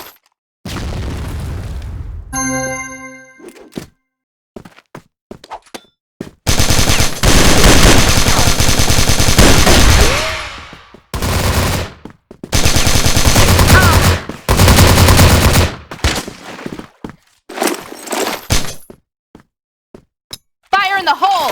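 Bursts of KAC ChainSAW machine-gun fire in the game CrossFire, loud rapid volleys with sharp explosive booms and breaking-glass crashes between gaps, game announcer voice callouts briefly heard.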